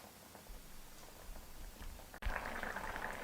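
Colocasia (taro) curry gravy bubbles in a pot as the water boils down and thickens, a soft, low simmering patter, faint and steady, growing a little louder and hissier near the end.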